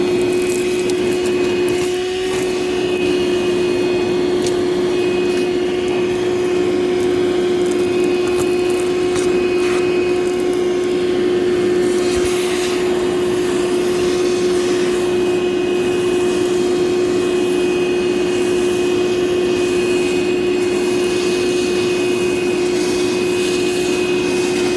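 A vacuum cleaner runs steadily on the interior carpet of a Trooper, a continuous close whine and airy roar that holds unbroken for the whole stretch with no talking.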